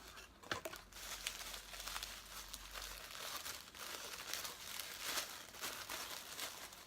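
Tissue paper rustles and crinkles as a gift is unwrapped from a subscription box, a steady, close papery crackle running throughout with a few sharper crunches and no talking.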